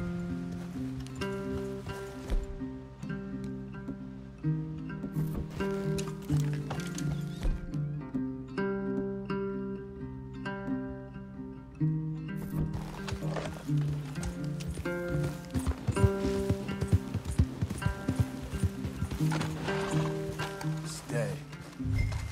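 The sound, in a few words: horses in video game Red Dead Redemption 2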